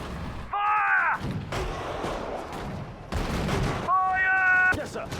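Artillery gun firing in Sudden Strike 4 during the Allied Operation Market Garden mission: a few heavy booms and sustained blasts, mixed with tonal in-game unit sounds and battlefield noise.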